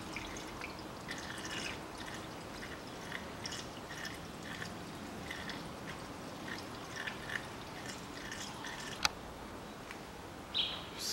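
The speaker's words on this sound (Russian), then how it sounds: "заливаем антифриз" Diluted antifreeze coolant poured into the radiator of a 2012 Toyota Camry XV50 with a 2.5 engine, a soft steady trickle and gurgle with scattered drips and a few small clinks, close by with no talk.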